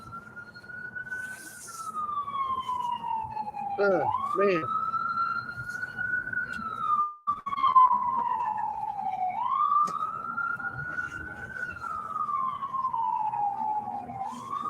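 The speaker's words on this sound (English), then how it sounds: "That was the ambulance." An ambulance siren wails, rising and falling slowly and steadily, moderately close, heard from a boat, while a voice briefly speaks over it and a few short thuds sound nearby.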